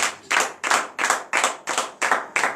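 Eight sharp, evenly spaced hand claps ring out in a steady rhythm, a clapped acclamation to God at a morning prayer service in Benin, loud and close with no talk.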